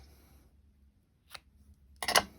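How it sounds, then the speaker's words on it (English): Scissors snip ribbon for a Valentine card craft, two short crisp cuts close by, the second louder, in an otherwise quiet room. "Ribbon cutting scissors."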